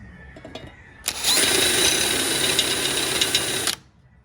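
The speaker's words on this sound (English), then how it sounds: "So we used an 11/64 drill bit to open up our 3 holes." A power drill with an 11/64 bit bores a hole in a metal mounting plate for a 2014-or-later Harley-Davidson Road Glide fairing, whirring loudly for about three seconds, starting abruptly and cutting off sharply, with quiet background noise before and after.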